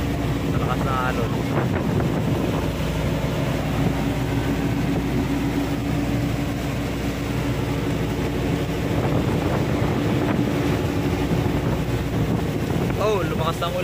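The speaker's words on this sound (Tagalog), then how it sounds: "Oh, lumakas ang ulan." Loud, steady wind roars across the microphone during a super typhoon, with heavy rain, rushing water and waves sloshing against a boat nearby, a continuous stormy wash with faint voices underneath.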